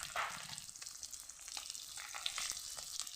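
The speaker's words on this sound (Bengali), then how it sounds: "আলুগুলো তেলের ভিতরে বসিয়ে দিলাম" Boiled potato pieces, sprinkled with turmeric, fry in oil with a continuous quiet crackling sizzle and occasional light stirring scrapes, close but soft, without talk.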